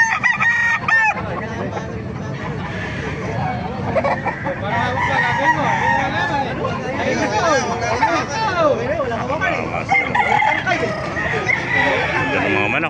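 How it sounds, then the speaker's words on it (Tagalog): Several roosters crow repeatedly at a Baliuag market, loud and near amid clucking fowl and a background crowd hubbub, with people talking throughout. "Ganda ng mga manok."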